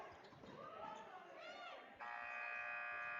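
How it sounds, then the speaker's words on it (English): A high school basketball game buzzer ends the first half of Symmes Valley versus Clay with a loud, steady electronic tone that holds to the end, following brief gym noise and crowd murmur. "Three for Clay, no good at the buzzer."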